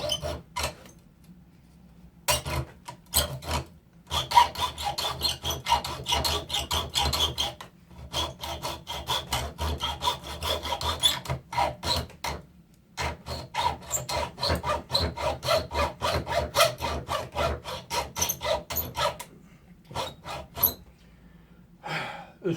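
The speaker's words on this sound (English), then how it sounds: "take Mr. Hacksaw" A hacksaw working through an old timber framing chisel near its socket, the wood nearly petrified. Steady back-and-forth rasping strokes run close and loud in long bursts, broken by short pauses.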